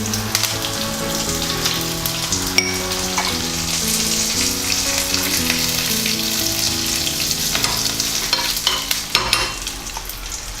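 Cumin, curry leaves and dried chillies frying in hot oil for a bottle gourd dal tempering, a loud, steady crackling sizzle with a few sharper pops, continuous and close with no talk.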